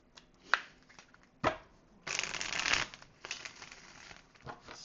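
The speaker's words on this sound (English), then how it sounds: "I will give a few quick shuffles" Tarot cards being shuffled during a love reading: a few quick riffling and shuffling bursts, close and fairly quiet, with one longer continuous stretch of card rustle in the middle.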